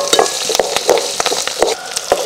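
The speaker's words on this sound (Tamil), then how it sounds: "இப்போ வெங்காயம் பூண்டெல்லாம் நல்லா வதங்கிடுச்சுங்க" Onion and garlic sautéing in oil in a pan over a wood-fired stove for thuthuvalai thokku, crackling with a steady sizzle and sharp, repeated pops and stirring scrapes, loud and close with no voices.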